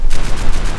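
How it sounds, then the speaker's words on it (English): Rapid machine gun fire from the video game Max Payne 3 rattles out in a loud, continuous burst of evenly spaced shots at close range. "Come on, I've got a machine gun, you pricks."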